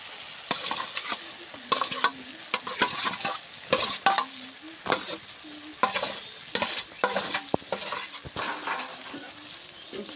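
A spatula scrapes and turns boiled potato through spice masala in a pan: rhythmic bursts of loud metallic scraping over a constant frying sizzle, close up, with no talk.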